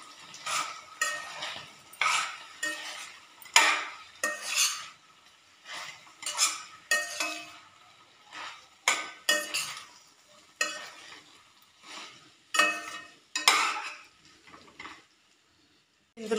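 Rice is stirred together with fried vegetables in a pan, giving a rhythmic series of scraping, clattering spoon strokes, each a short burst with quiet gaps between and light sizzling underneath.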